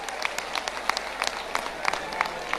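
At a Bageshwar Dham katha on an open festival ground, a crowd claps in scattered, uneven bursts, with individual claps standing out sharply against a fairly quiet, distant background.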